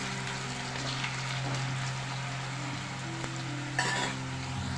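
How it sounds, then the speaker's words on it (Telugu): Potatoes fry in oil over a high flame, a steady hissing sizzle with a few soft stirring clinks, close and even, with no voices. "బంగాళదుంపలన్నింటినీ హై ఫ్లేమ్లోనే బాగా వేగాలండి"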